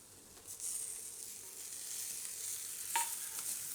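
Raw banana and peanut khichdi is stirred in a pan, giving a faint steady sizzle with a single spoon clink partway through.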